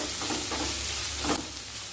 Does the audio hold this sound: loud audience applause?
no